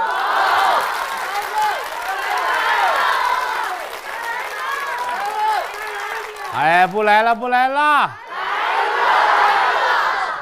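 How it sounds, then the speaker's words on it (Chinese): An audience at a crosstalk comedy show shouts and heckles in a loud, continuous roar of voices. The crowd drops out briefly midway while the performer calls out, then swells back up. "喊什么都有啊，听着跟起哄似的啊"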